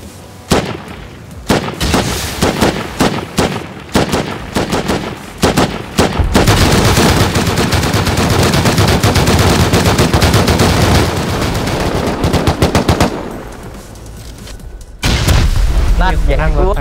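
Heavy gunfire in the survival video game Rust: loud, rapid bursts of shots and booming blasts, sometimes blending into a sustained barrage, with players talking over it.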